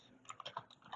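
Keys clicking on a computer keyboard while typing a font name into a code editor's settings search, a quick run of several close, soft taps with no voice.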